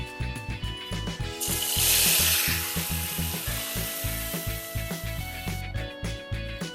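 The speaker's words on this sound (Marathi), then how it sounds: "चला तेल गरम झालंय, आता तेलात टाकूया" A short burst of loud hissing sizzle as food drops into hot oil for a tempering (phodni) while cooking green chicken, fading back under a steady rhythmic beat of background music.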